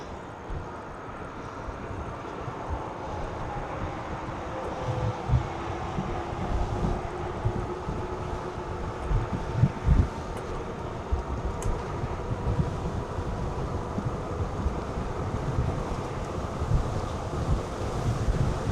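Wind rushes and buffets steadily across the microphone while a Heybike Horizon full-suspension folding electric bike rides at top speed on throttle, with occasional low thumps and no talking.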